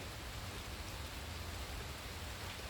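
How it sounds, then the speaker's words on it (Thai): Light rain falling outdoors, a steady, soft, even hiss with no distinct thunder rumble and no voices. "ตกนะคะลงเม็ดแล้วนะคะตอนนี้ เสียงฟ้าก็มาค่ะ เสียงฝนก็มานะคะ"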